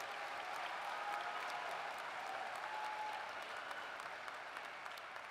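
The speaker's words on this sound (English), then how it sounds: "Let's give them a big round of applause" Graduation audience at the Salem Hills High School Class of 2025 ceremony applauds student speakers, a steady, even wash of many hands clapping at moderate distance, sustained throughout without a break.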